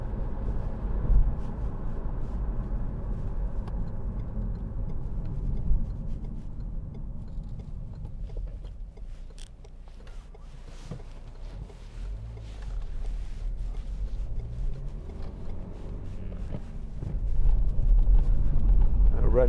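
A 2016 Renault Megane 1.5 dCi diesel hatchback rumbles along the road from inside the cabin, with a steady engine and tyre drone that eases and then rises as it accelerates.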